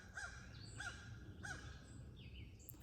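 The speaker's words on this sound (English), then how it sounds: "Fucking crow." A crow caws three times in an even, spaced rhythm, harsh and fairly faint against quiet outdoor background noise, with no voices.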